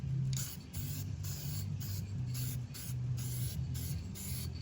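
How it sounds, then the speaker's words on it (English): Spray primer from a can misted onto a 3D printed 1972 Chevrolet truck body, a series of steady hissing bursts with brief pauses between them, close and fairly loud over a low background hum. "I'm just gonna spray in here in the cab."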